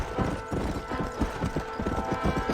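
Horse hooves clip-clop at a gallop in a Western video game setting, a steady rhythmic pounding close by with a brief whinny mixed in, no talk over it.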